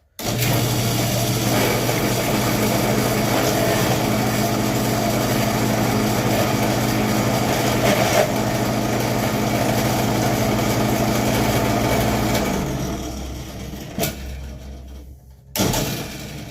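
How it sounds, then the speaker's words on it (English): A propeller glaze mixer runs steadily in thick ceramic glaze for about twelve seconds, a loud continuous motor whir with a low hum, then it winds down and stops, followed by brief clatter. "that little propeller thing that mixes up our glazes really well"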